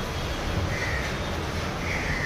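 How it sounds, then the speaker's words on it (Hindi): Crows caw overhead against a steady outdoor background, with a couple of harsh calls standing out over the constant ambient noise. "कौवे बहुत चिल्ला रहे थे भाई ऊपर"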